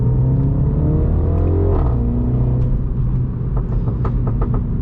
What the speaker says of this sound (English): this exhaust is not stock. The car does sound great stock, but this has had the resonator taken out of it